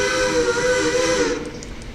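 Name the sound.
PRR three-chime steam locomotive whistle in a train video game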